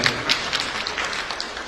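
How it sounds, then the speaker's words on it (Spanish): A lecture audience greets an arriving speaker with a short burst of applause. The clapping is dense and fairly close, lasting under two seconds. "hay que recibirlo con fuertes votos de aplauso"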